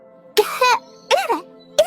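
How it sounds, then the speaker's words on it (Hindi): An animated cartoon character coughs, a voice actor producing three short, voiced, throaty coughs spaced apart over under two seconds, close and clear against near silence. "मेरे गले में बहुत दर्द है और खांसी भी आ रही है"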